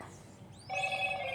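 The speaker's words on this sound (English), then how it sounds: "Excuse the stupid phone ringing" A telephone rings in a workshop during a 2004 Harley-Davidson Softail Custom build, a steady electronic ring that starts partway through and continues loud and close over quiet room noise.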